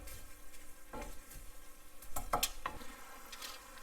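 Basmati rice being stirred into a chicken skillet with broth, a close sizzle with scraping and stirring strokes, a few sharper clinks of the utensil against the pan.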